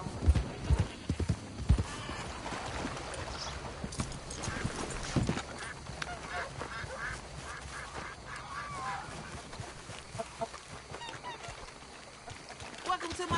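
Horse hooves clip-clopping in Red Dead Redemption 2, a steady run of hoof beats with scattered louder knocks, moderately faint, with other game sounds around.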